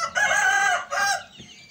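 Aseel chickens, a rooster and a hen, calling close by with a drawn-out crowing phrase followed by a shorter call, loud and clear with no talking.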